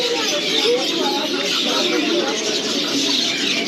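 Many birds chirp and coo together in a busy bird market in Kabul, a dense, continuous chatter of calls with indistinct human voices mixed in.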